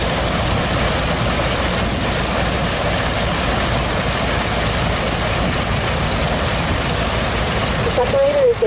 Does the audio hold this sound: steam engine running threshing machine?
yes